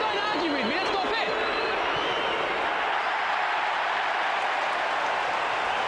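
Kangaroos fans applauding at a 2006 Australian football match against Hawthorn, a broad steady crowd wash of clapping and cheering with some murmur, a distant roar that fades slightly over several seconds.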